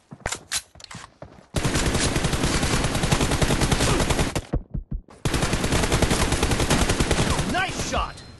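Automatic weapon fire in a shooting video game, a few short single shots and then two long sustained machine-gun bursts, loud and close, with a brief pause between them.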